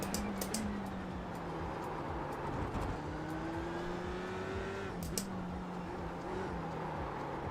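A race car engine drones steadily on an oval track in the iRacing sim, holding a continuous mid-pitch whine that shifts slightly with throttle, loud and close, with faint clicks and no talking.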